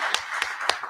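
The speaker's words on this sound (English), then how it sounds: "And you can clap for that." An audience at a public talk on racial equity and real estate claps briefly, with three distinct sharp claps standing out over a soft spread of applause.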